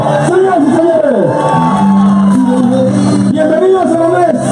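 A crowd in San Andrés shouts and cheers to welcome Gustavo Petro, a loud, dense roar topped by whooping voices that rise and fall throughout.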